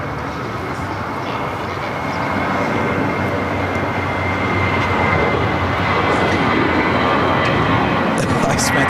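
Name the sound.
United Boeing 777 from Newark arriving at LAX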